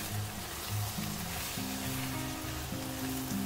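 Tikka pieces sizzle steadily in hot oil as they fry for biryani, a continuous crackling hiss under faint background tones with no one talking.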